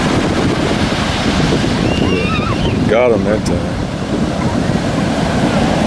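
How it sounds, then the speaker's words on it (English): Ocean waves roll in on a beach as a steady, loud wash of surf with wind buffeting the microphone, while people talk nearby and a voice rises over the water. "As the waves come in,"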